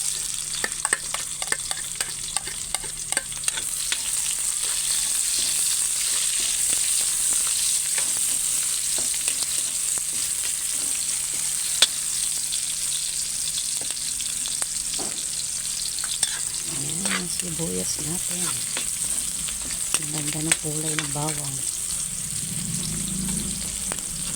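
Garlic and onion fry in a pan for Kapampangan-style pakbet and are stirred. A steady sizzle runs throughout, with scraping stirs growing louder and busier toward the end. No one speaks.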